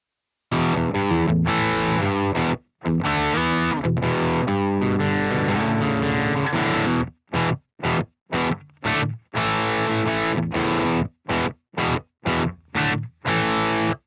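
An electric guitar plays through an MLC Sub-Zero 100 amp on its default tone, heavily distorted. A long sustained passage gives way to tight, chugging bursts separated by abrupt silences, loud and close.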